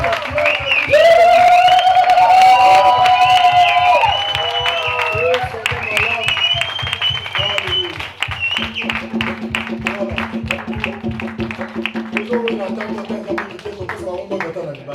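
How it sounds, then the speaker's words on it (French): Congregation at a baptism service breaks into sustained applause, dense clapping from many hands that gradually thins, with a voice speaking over it and the tail of the clapping continuing under talk. "Applaudisseren."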